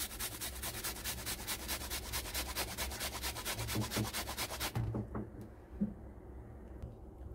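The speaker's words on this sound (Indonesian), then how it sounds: "Lalu kita haluskan bawang merahnya ya." Shallots ground by hand against a stone mortar while making corn fritters: a loud, rapid rhythmic scraping and rubbing for nearly five seconds, then it stops, leaving a few soft knocks.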